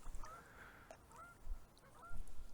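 Geese honk several times at a distance, short calls spaced irregularly over faint background noise.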